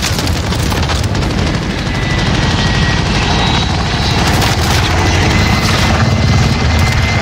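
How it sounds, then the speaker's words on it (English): An attack helicopter roars overhead in a video game set on the Caldera map, a loud, continuous rotor drone with dense low rumble that persists through the whole stretch. "Was that the attack chopper?"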